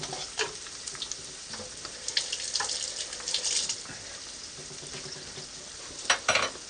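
Beaten egg omelette mix sizzling in olive oil in a pan over high heat, a steady crackling fry with brief splashy bursts near the start and end, heard up close with no talking.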